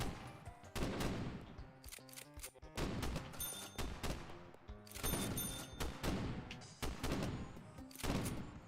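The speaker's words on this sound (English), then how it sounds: "Double-barreled shotgun does 2 damage per hit" In a video game, a double-barreled shotgun fires again and again, loud close blasts coming in quick bursts with short gaps between them over roughly eight seconds.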